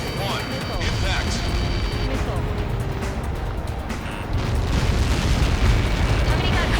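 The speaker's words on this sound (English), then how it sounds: "Somebody got caught in that explosion." A massive explosion in the flight combat game Ace Combat 7 sends out a dense, sustained roaring rumble that swells louder partway through, with voices speaking over it.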